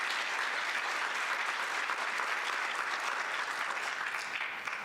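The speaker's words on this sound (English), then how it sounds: "Let's give them applause, because without them, this wouldn't be possible." Conference attendees at an African-American history and culture gathering in Nashville give warm, sustained applause, an even wash of many hands clapping that holds steady before easing slightly at the end.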